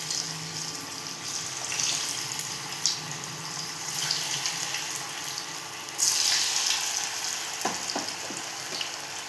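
Potato balls slide one at a time into hot oil for a Marathi potato snack, setting off a steady close sizzle and bubbling, with a few clinks and splashes near the end and no talking.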